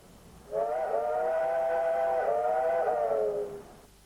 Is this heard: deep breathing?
no